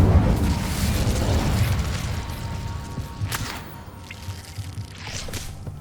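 An Incendio fire spell cast in Hogwarts Legacy: a whooshing burst of flame that swells and then trails off into crackling, fizzing pops, with the magical effects carrying on after it.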